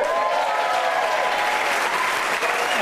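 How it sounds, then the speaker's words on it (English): An awards-ceremony audience claps and cheers steadily throughout, a dense, sustained wash of applause filling the room. "Can we make some noise for Bradley Walsh, please?"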